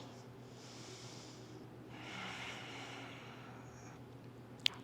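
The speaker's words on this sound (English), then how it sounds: "Taking 2 more breaths." Slow, soft breaths drawn in and out during a yoga mobility flow, two long airy exhalations close to the microphone over a faint steady hum, ending with a brief small click.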